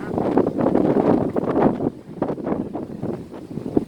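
Strong wind at South Horizons, Hong Kong, buffets the microphone with loud, continuous rumbling gusts that swell and ease.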